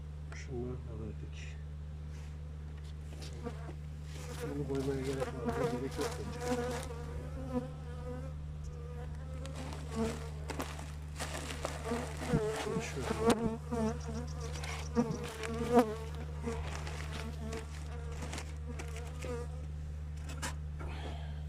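Honeybees drone inside a weak hive in December, a dense, continuous close buzz with individual bees rising and falling in pitch, and a person occasionally speaking over the hum.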